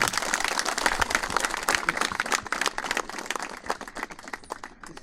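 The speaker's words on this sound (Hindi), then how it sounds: "ताली बजा देंगे।" A crowd claps steadily for several seconds at a men's conference honoring guests, dense overlapping applause that stays fairly loud before thinning out toward the end.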